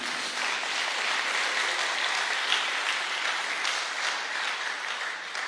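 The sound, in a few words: audience applause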